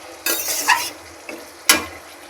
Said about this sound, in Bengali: এবার এই জলটা দিয়ে মাংসটা ভালো করে কষিয়ে নেব